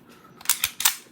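Two or three crisp metallic clicks come from the trigger and striker of a Springfield Armory XD 9mm pistol being dry-fired, close and quick in succession with no talking.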